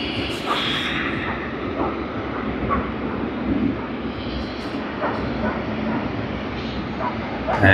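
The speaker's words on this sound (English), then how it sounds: "here you are coming from behind the bushes, the Boeing 777-300 of Singapore Airlines" A Singapore Airlines Boeing 777-300 approaches at Sydney Airport, heard as a steady, broad jet roar with wind buffeting. A person talks over the engine noise.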